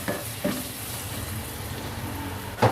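Spices, salt and chilli being stirred into potatoes, cauliflower and tomatoes in a frying pan, with a steady sizzle under scraping stirs and a louder clatter of the spoon near the end.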